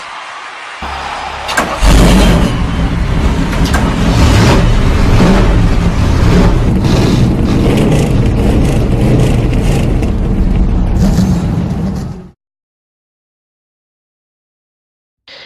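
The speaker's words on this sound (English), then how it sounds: "Gentlemen, start your engines!" Race car engines at USA International Speedway in Lakeland, Florida, fire up together and rev loudly in a roaring, overlapping chorus that swells and holds for several seconds, then cuts off abruptly into silence.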